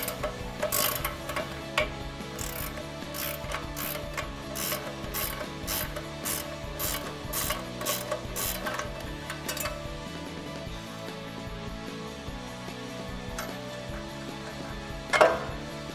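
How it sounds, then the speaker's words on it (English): A 21 millimeter ratcheting wrench works a ball joint nut on a RAM 1500 front suspension, giving repeated close clicking ratchet strokes in bursts, with metallic ticks and a sharper clank near the end. "we can get our 21 millimeter ratcheting wrench on top and a 10 millimeter socket on the bottom"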